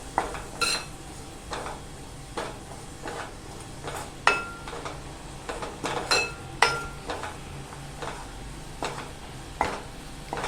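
Turmeric and Malvani masala sautéed in a pan for Malvani egg curry, with repeated spoon scrapes and metallic clinks against the pan at an irregular stirring rhythm over a faint, low sizzle.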